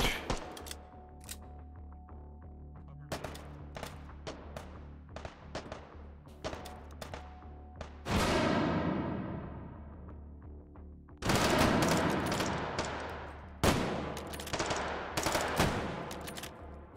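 Gunshots in the VR shooter H3VR: scattered single shots and short bursts, then several loud sustained volleys with ringing tails, close and sharp against a quiet background.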